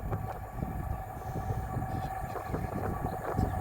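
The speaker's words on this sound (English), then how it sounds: "It's a train, guys." A train rumbles past at Monkton Foot level crossing, a steady close, low rolling noise that holds at an even level throughout, with no voices.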